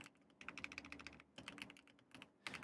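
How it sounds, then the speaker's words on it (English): Mechanical keyboard switches with plastic keycaps clack in quick rapid bursts of typing, close and crisp, with short pauses between runs of keystrokes. "I'm gonna let you listen to the switches I bought for the new keyboard"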